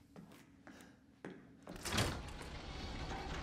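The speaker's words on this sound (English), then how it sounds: "I open the door." A door opens in the Resident Evil 7 video game: a few soft clunks, then a louder heavy thud and swing, with the room's ambience continuing afterward.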